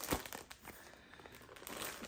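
Thin plastic wrapping around a pack of assorted Korean fabric sheet masks crinkles up close while being unpacked, in irregular crackling bursts with one sharper rustle at the start.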